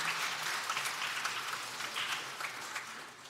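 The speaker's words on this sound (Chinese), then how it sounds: "再次热烈的掌声" A church congregation claps steadily at a Sunday service to thank summer camp teachers, the applause soft and distant, filling the whole moment without voices.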